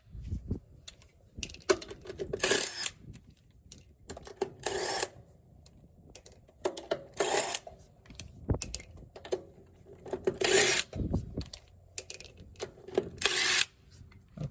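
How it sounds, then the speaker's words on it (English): A Hart half-inch socket set ratchet and breaker bar work bolts loose in several separate bursts of quick, close mechanical clicking and ratcheting, with quiet gaps in between and no talking. "it took them out easily after using the breaker bar"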